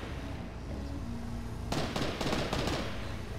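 Gunfire in the video game Fortnite, a quick cluster of sharp cracking shots in uneven bursts after a stretch of quieter game ambience.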